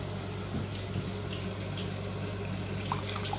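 Boiling water poured into about 15 grams of honey while making homemade ketchup, a soft steady trickling and splashing stream, faint and continuous, with no one talking.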